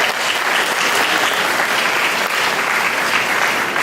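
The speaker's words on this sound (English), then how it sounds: "Let's give them a round of applause." Audience applause at a remembrance walk in Georgia, a steady, full round of clapping from a crowd, even in level throughout, with no talking.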